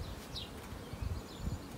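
A honey bee swarm clustered on a maple tree branch gives a faint, steady buzzing hum with no voices, heard from a short distance.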